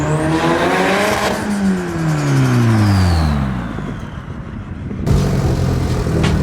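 Twin-turbo car engine revving up hard close by, pitch sweeping upward and falling repeatedly in loud bursts, briefly easing off before a final sharp rev, with no talking.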